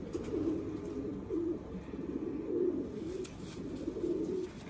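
Kasuri pigeons coo in a Punjab loft, low rolling calls rising and falling in repeated swells, close and fairly clear with faint background noise.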